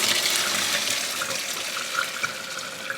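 Running water gushes steadily into a pot as boiled pinto beans are washed, a close, continuous splashing rush with faint clinks, no voices.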